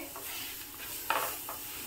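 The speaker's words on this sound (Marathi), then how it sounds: "कांदा थोडा परतून घेणार आहे" Two medium onions, finely chopped, sauté in a pan for paneer bhurji, giving a steady soft sizzle with a louder stirring scrape about midway and a lighter one just after, no voices.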